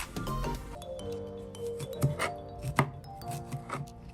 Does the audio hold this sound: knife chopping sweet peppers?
yes